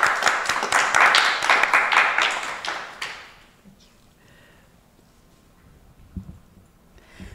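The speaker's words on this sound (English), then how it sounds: "let's give a big round of applause to Malini Mataji" A roomful of people at a sankirtan orientation seminar claps for about three seconds, loud and dense, then the applause dies away into near silence with a few faint taps.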